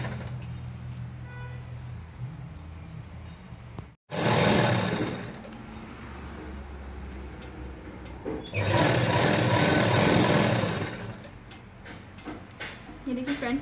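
Sewing machine stitching a midi dress, whirring in two loud bursts with quieter stretches between, while a voice talks over parts of it.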